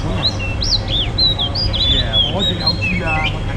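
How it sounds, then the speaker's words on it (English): A caged bird bought at the Mong Kok bird market in Hong Kong chirps continuously with quick, high tweets and trills, close and clear over a bustling street background. "you see this guy got a bird from the bird market."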